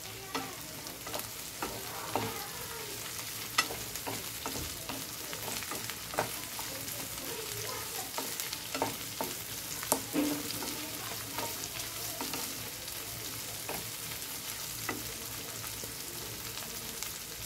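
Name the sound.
corn kernels frying in a pan on high flame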